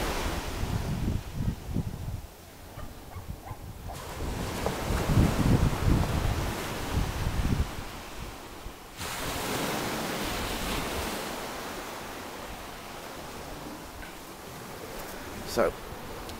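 Sea waves washing onto the shore at high tide in Seagrove Bay, Seaview, Isle of Wight, a steady surf wash with wind noise on the microphone, swelling in louder surges.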